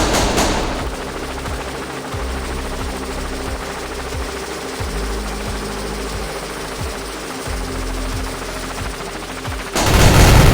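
Sustained automatic gunfire in the video game Execute, a steady rapid stream of shots for nearly ten seconds over a droning background, loud and with no talking.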